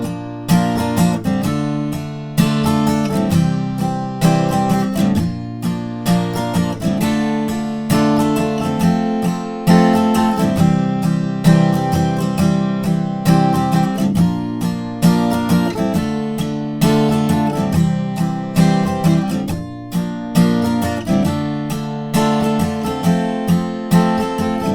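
Acoustic guitar strumming the repeating chorus chord progression of a song, steady rhythmic strokes with bright ringing strings, loud and continuous with no voices.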